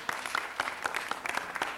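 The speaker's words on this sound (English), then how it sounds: "Give them a round of applause." A short round of applause at a city council meeting, moderately loud with distinct individual claps standing out in an uneven rhythm.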